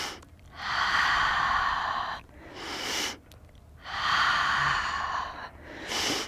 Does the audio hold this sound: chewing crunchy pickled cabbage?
no